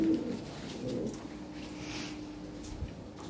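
Soft cooing from Lahore Siraji pigeons kept in pairs, a few low, rounded coos near the start and then quieter intermittent calls against a faint background.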